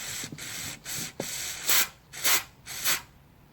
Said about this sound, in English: Now I'm just going to spray it out with carb cleaner